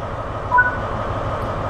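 A Great Western Railway train in the video game Train Sim World 3 gives a low, steady rumble with a faint brief tonal squeal, moderately loud and continuous, no speech.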